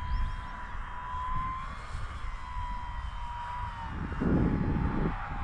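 A 3D-printed RC model A6M2 Zero plane flies at speed, its small engine giving a steady whining drone that carries throughout, fairly close, with wind noise underneath.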